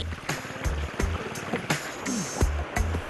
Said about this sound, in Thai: การล่องเรือเลาะเลียบไปตามแม่น้ำโขง เพื่อหาปลาตามแหล่งฐานที่มีทรัพยากรธรรมชาติอุดมสมบูรณ์